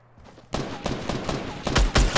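Fortnite gameplay gunfire: a quiet moment breaks into a string of loud shots, irregular bursts with heavier blasts toward the end, with no talk over them.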